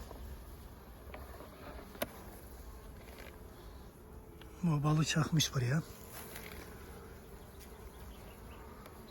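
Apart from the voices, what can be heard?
honey bees buzzing at the hive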